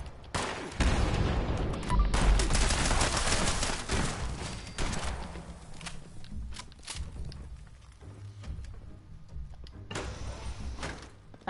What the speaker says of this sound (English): I heard a grenade!